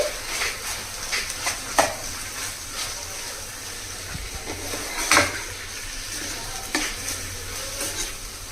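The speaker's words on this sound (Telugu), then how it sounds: "ఇప్పుడు బాగా కలపాలండి" Prawns mixed with salt and ginger-garlic paste in a sizzling pan, a continuous frying hiss with repeated scraping stir strokes and light clinks of utensil against the pan.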